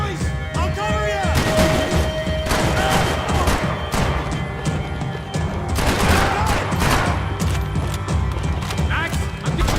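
Gunfire from a Max Payne 3 firefight, with dense bursts of shots, crashes and impacts running continuously under loud shouting voices.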